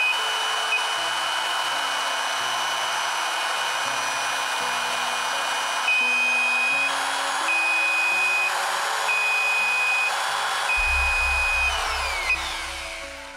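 A repeating electronic beep sounds at intervals from a DIY 300VA UPS as its battery drops to 60%, over a constant fan-like whir, with shifting low tones and a pulsing hum near the end.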